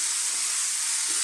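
Chopped onions, processed small, hitting hot oil in a pan for a Bengali rohu fish curry masala, giving a steady close broadband sizzle with no pauses.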